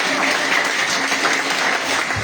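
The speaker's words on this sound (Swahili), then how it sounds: "Wapigie makofi mazuri." A church congregation applauds warmly to welcome new converts, a dense, steady patter of many hands clapping throughout, close and full, with no talking over it.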